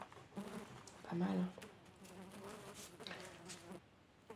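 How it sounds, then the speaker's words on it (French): A housefly buzzes near the microphone at an indoor crafting table, a faint wavering whine that swells and fades as it moves, with a person talking quietly. "Oh, mais la mouche, là"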